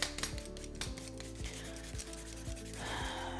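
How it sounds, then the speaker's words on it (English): A sweet potato is peeled with a hand peeler, producing quick repeated scraping strokes in a steady rhythm, close and fairly quiet, over a faint tonal background hum. "So when you peel, remember that your peeler goes two ways."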